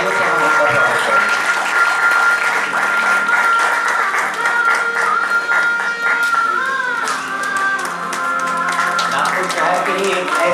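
Hall audience at the Zero Mile ICon Award function claps loudly and steadily to welcome an award recipient, sustained applause with music and voices faintly mixed underneath.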